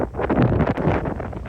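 Strong wind gusts buffet the microphone on a golf course during a windy high school match, a steady roaring rumble with no voices.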